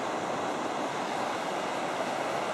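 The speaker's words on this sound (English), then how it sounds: "Creek's come way down." A creek in the Alaska Range gives a continuous, even rushing hiss of flowing water, steady and fairly close, with no voices.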